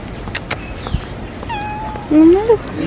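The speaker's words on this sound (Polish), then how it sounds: "Kot? Kotek!" A cat meows near a greenhouse garden, a couple of short rising and falling calls ending in a louder drawn-out meow, with a person speaking softly around it.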